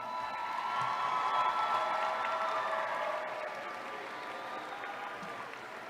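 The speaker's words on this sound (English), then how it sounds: "graduates, I'd ask that you turn and face your families and give them a round of" Sustained applause from a large crowd of graduates at a spring commencement ceremony, steady and fairly loud, easing slightly toward the end with a few faint shouts mixed in.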